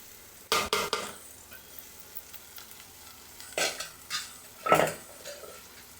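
Ivy gourd (gokarakaya) curry being stirred in a frying pan, with a few scraping strokes of a spoon against the pan over a faint, low sizzle, no talking.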